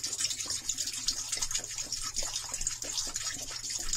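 Water gushes steadily from disconnected boat heat exchanger hoses into the bilge, a continuous close splashing pour with no talk.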